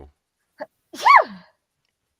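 A single sharp human sneeze, preceded by a short intake of breath, close and clear against a quiet background.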